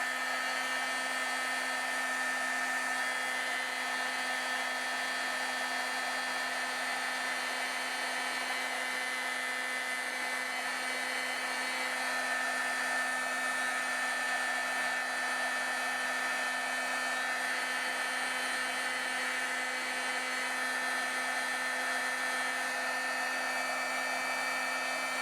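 A craft heat tool blows hot air to heat set dye-based ink after embossing, a steady, unbroken whine and rush of air lasting the whole stretch, moderately loud and close with no speech.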